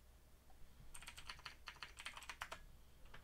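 Quick bursts of keystrokes on a computer keyboard as a command is entered in a Windows terminal, light clicky taps in an uneven rhythm, close but soft, with no voices.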